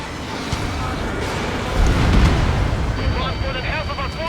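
A missile explodes in the Ace Combat 7 flight combat game, a deep rumbling blast swelling in the middle of the clip over steady engine noise, with voices speaking around it.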